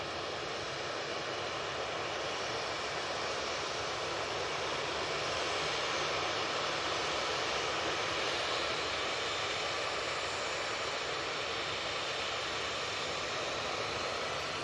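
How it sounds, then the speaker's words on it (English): An Embraer E190 jet airliner at Manchester Airport gives a steady, broad engine roar that swells slightly in the middle and holds throughout, with no talking. "It is the Embraer E190."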